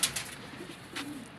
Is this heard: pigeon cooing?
yes